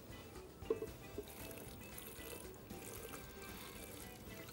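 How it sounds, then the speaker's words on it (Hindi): Water poured into a juicer blender jar holding green chili and other ingredients, a faint, steady liquid trickle and splash continuing at low level with no talk. "थोड़ा सा इसमें हम पानी शामिल करेंगे"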